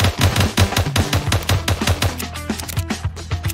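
Rapid video-game gunfire in Jail Break, a loud, close, steady automatic stream of sharp shots with a rhythmic pounding beat running throughout and no talk over it.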